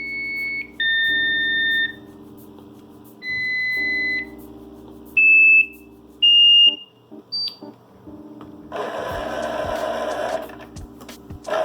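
Omnibot 5402 robot movement control tones from its speaker: a series of sharp electronic beeps of differing pitches, each a second or so long, separated by short pauses, ending in a burst of buzzy noise near the close.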